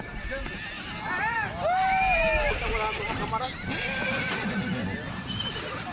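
Horses whinnying loudly on a large cattle ranch in the Los Llanos plains, several rising neighs overlapping over a steady outdoor background, with hoof clip-clop and a narrator speaking.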